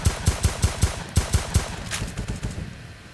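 Rapid bursts of gunfire ring out in the Roblox game Deadly Heist, loud repeated shots in quick rhythmic volleys that fade toward the end.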